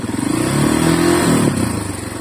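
A Shineray 6C 250 motorcycle engine revs up steadily toward 6,000 rpm, its low rumbling tone climbing and holding before easing back down, loud and close throughout.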